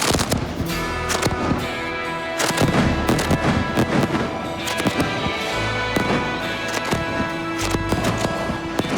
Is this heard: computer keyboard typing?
no